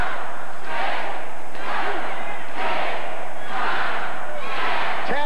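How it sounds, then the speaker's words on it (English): Wrestling arena crowd at a 1984 AWA event chanting in unison along with repeated forearm blows, several loud rhythmic swells of massed voices roughly a second apart, with a sharp thud near the end. "You can hear the crowd counting along."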